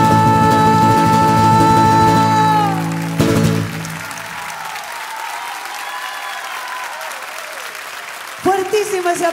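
Loud applause from a concert audience after a live tango ballad performance, starting over the final sustained instrumental notes, then thinning to a softer scattered patter before a voice speaks near the end.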